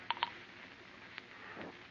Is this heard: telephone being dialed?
yes